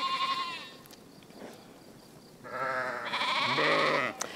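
Sheep in a flock bleat in a few separate calls, the first thin and wavering, then a louder, fuller bleat overlapping another near the end, with quiet pauses between them.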